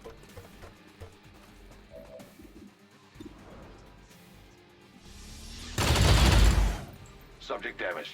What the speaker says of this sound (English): Shoot the purifier, I guess.